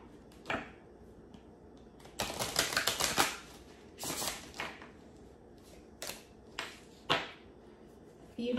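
A series of quick, papery riffling bursts close by as cards are shuffled, with brief gaps and a few sharper taps between them.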